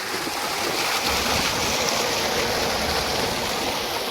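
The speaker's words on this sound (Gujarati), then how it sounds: "બોરનું પાણી સરસ વહી રહ્યું છે." Water from a farm borewell pours out steadily in an open field, a continuous, full rushing flow that stays close and even throughout with no voices.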